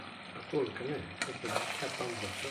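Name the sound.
goat meat frying in spices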